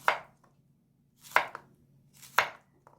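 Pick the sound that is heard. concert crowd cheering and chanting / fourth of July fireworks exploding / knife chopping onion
knife chopping onion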